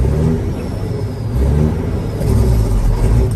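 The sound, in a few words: 1994 Peterbilt 379 truck engine revving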